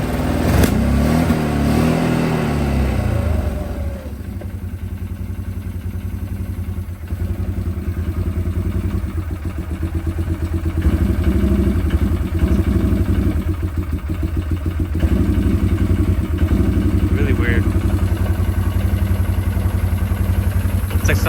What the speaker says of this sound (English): It's like sometimes it runs on one cylinder, sometimes it runs on two.